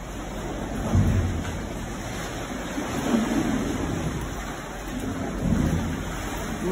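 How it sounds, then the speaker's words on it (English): Ocean water surges in and out of a sea cave, a low rumbling wash that swells and recedes in slow waves roughly every two seconds, heard from nearby without speech. "You can listen, you can hear the sound of the water going in and out."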